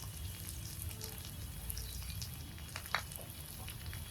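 Quartered tomatoes sizzle in a hot wok with black cumin seeds, a steady close frying hiss with a brief crackle near the end and no talk.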